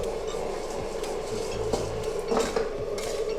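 Pork belly tossed with chili and salt over high heat in a pan, with a steady frying hiss under repeated metallic clanks and scrapes of a spatula against the pan.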